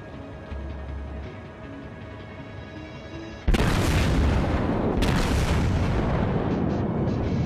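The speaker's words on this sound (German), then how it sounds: "Sieht ihr schon, wenn der losfeuert, dann bebt hier die Erde" A battleship fires its main guns in World of Warships. After a low rumbling stretch come two loud booming salvos with heavy rolling echo, each sustained and overlapping.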